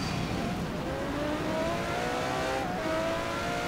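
A car in Forza Horizon 4 accelerates hard under throttle in low gear, its engine note rising steadily in pitch as it struggles for traction, loud and continuous throughout.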